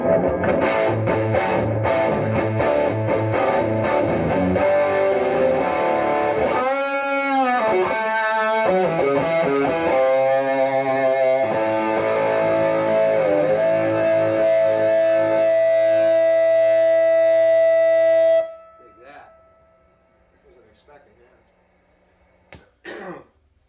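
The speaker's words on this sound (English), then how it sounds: "which will yield strong, driven tones." A Tom Anderson S ICON electric guitar on its humbucker pickup plays driven, distorted chords and bending notes, loud and sustained, then cuts off abruptly into near silence with a few faint plucks.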